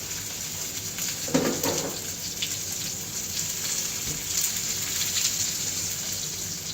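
Salmon patties with mixed veggies sizzle steadily in a pan, a close, even frying crackle with a few brief clinks and pops. No voice is heard.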